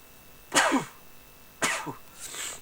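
Two sharp bursts like a sneeze or cough, close and fairly loud, with a softer third breathy sound at the end.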